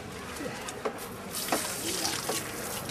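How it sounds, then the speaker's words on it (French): An outdoor shower runs in the middle of a harbour, giving a steady broadband wash of falling water with occasional splashes and brief faint sounds, fairly close and continuous throughout. "nos 2 gros-pères prennent la douche dehors"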